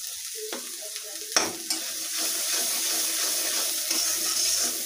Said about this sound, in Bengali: এখন তেলের মধ্যে মশলাটা খুব সুন্দর করে ভাজবো